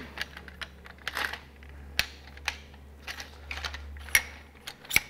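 Parts of a Kessler Pocket Jib camera crane slide together and are tightened, making a series of sharp close clicks, taps and small metallic knocks scattered over a quiet background hum.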